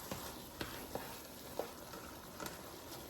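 Philly cheesesteak sloppy joe meat seasoned with pepper and sea salt sizzles steadily in a pan, a soft continuous fry broken by a few light scrapes and stirs, with no talking.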